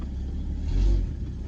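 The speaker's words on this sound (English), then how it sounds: "what a good little vroom. Got a sweet dual pipe" Car engine with dual exhaust pipes gives a brief rev, a low rumbling swell that peaks midway and settles back to idle, close by with no talk.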